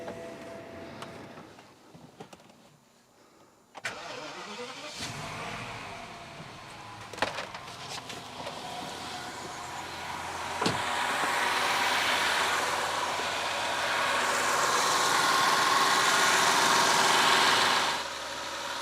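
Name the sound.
BMW V12 engine starting up and idling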